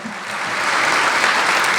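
An audience at a dedication ceremony for the Willowbrook Mile breaks into applause after a speech, a dense, steady patter of clapping that swells a little and holds at a fairly loud level.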